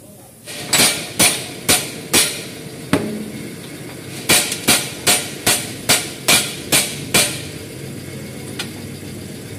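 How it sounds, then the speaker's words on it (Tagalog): Sharp metallic hammer strikes on a front wheel stud bolt ring out in two bursts, a few spaced blows then a quicker run of about eight, over a low engine hum. "Paluin na lang ng martilyo yan."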